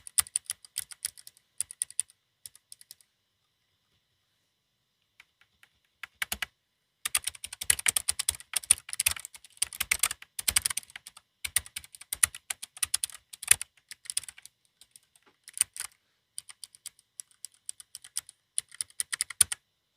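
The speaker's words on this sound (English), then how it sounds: "So this is the low profile hot swappable RGB Bluetooth mechanical keyboard." Someone types on a Keychron K3 low-profile, hot-swappable mechanical keyboard, producing close, crisp clacking in quick irregular bursts separated by short pauses, with no voices.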